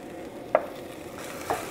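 Garlic dropped into a pan of softened onions, giving a soft, steady sizzle with two brief scrapes of a utensil against the pan; close and fairly quiet, with no talking.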